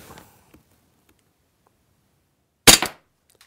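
A Game Face Mayhem CO2 airsoft pistol, powered by a powerlet and loaded with 0.2 gram BBs, fires one sharp, loud shot over a chronograph after a short quiet pause and a faint click.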